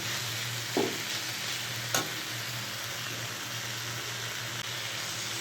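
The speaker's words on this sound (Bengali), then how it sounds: "সামান্য তেল দিয়ে সবজিটা ভেজে নিচ্ছি" Vegetables frying in a little oil in a kadai, giving a steady, soft sizzle throughout with two brief clinks of stirring or utensil contact.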